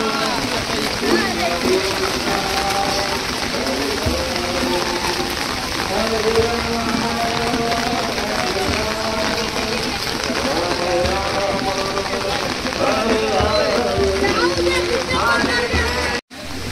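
Steady rain pours over pilgrims walking toward Pandharpur from Dehu during the Tukaram Maharaj palkhi procession, a dense continuous patter with crowd chatter and singing voices mixed under it throughout.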